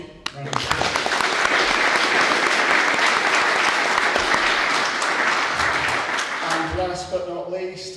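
A panel audience at a pre-election conversation on Ukraine breaks into loud, dense applause that holds steady for several seconds, then thins and fades as a few voices come through near the end.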